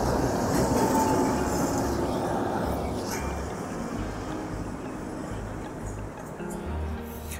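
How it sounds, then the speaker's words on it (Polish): A locomotive-hauled train rumbles past close by with steady clattering and a low roar that slowly fades, filling the whole stretch. "O, jedzie lokomotywa!"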